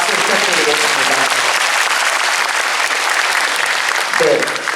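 Audience at a Busan International Film Festival guest talk for the series Yonder breaks into sustained, loud applause filling the hall, with a voice surfacing briefly near the end.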